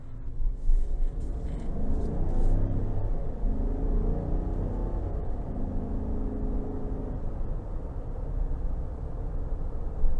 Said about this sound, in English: next we're going to go ahead and take this LT Trail Boss out on the road for a quick test drive